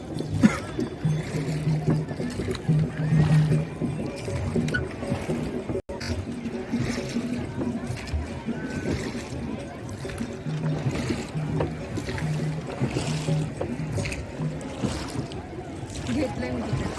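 A boat travels on the Chandrabhaga river, with water lapping and trickling against the hull and a steady wash of motion and wind, while people talk faintly in the background.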